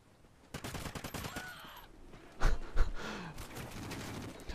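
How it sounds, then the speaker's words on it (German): Rapid bursts of gunfire in the video game Call of Duty: Ghosts play as a dense stream of shots, followed by a couple of heavier booms and continued background battle noise, all at moderate level without speech. "Ich guck mir mal an, wie die schießen."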